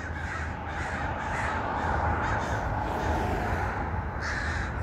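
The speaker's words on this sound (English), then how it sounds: "The crow's still freaking out." A crow caws repeatedly outdoors, a series of harsh, rasping calls at moderate distance over steady background noise, with a hawk nearby.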